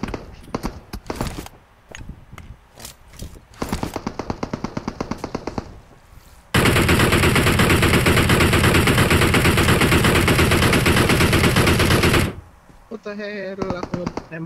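Gunfire in a shooting video game, opening with a string of rapid single shots and then a long, loud, unbroken machine-gun burst lasting about six seconds, with voices talking before and after.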